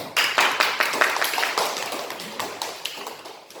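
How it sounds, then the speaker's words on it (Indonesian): A classroom of students claps for a classmate, a quick scattered patter of hand claps that thins out gradually over a few seconds. "kasih tepuk tangan untuk teman"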